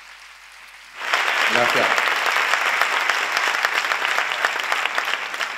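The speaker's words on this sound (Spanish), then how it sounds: "os pediría fuerte aplauso para los primeros" Conference audience at a university summer course bursts into loud, sustained applause after a short quiet moment, dense and steady throughout, while a speaker briefly says a word of thanks at the start.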